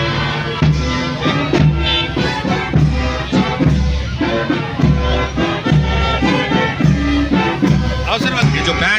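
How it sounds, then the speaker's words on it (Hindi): A band plays the Suswagatam welcome tune at a winter carnival opening, with loud, steady rhythmic beats and sustained melodic brass-like tones, and crowd noise faintly underneath. "ये जो बैंड है, ये सुस्वागतम की धुन बजा रहा है।"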